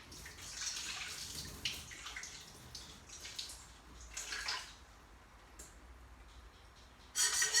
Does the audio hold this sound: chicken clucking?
no